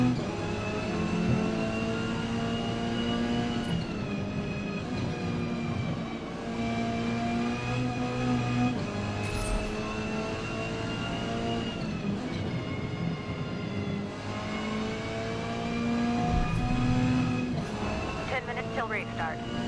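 Race car engine in the video game Forza Motorsport, a steady droning rev rising and falling through gear changes on track, with a voice talking over it.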